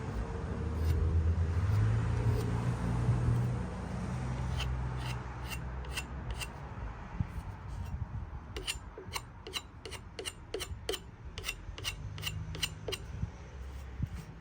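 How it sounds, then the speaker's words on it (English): Old finish being scraped off an antique floor lamp table: repeated sharp rasping strokes, sparse at first and then quickening into an even rhythm, close up over steady low background rumble with no talking. "you still got to scrape it off, but it's coming off"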